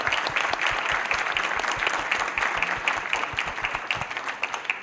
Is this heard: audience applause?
yes